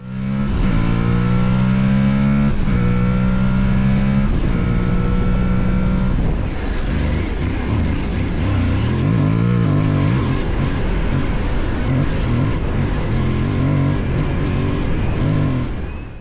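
An Aprilia Tuareg Rally 660 motorcycle roars close and loud as the throttle opens, exhaust and air intake rising through several rapid gear-by-gear revs, then a sustained hard-running drone with wind rush.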